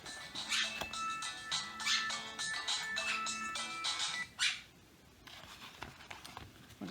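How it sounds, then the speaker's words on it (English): An incoming-call ringtone plays at home during a diamond painting haul, a repeating melodic phrase cycling several times before stopping, fairly close, with faint rustling and patter underneath and no speech. "what a time to get a phone call."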